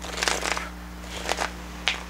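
Quick riffling bursts of a card deck being shuffled, three separate flurries of crisp paper flutter over a low steady hum.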